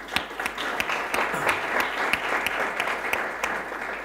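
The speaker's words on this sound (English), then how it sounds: "I would like to request a very big applause for Bailbank, El New Andorra Telecom, and Actua." An audience at a startup event in Andorra applauds for sponsors, a moderate, fairly distant clatter with distinct sharp claps standing out over the steady wash.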